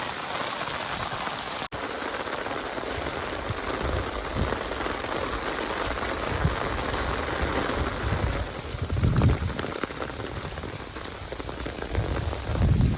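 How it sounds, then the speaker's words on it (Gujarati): Heavy rain pours steadily over a farm, a dense continuous hiss of drops striking surfaces close by, with no voices. "વરસાદ આવે છે બરાબર બરાબરનો"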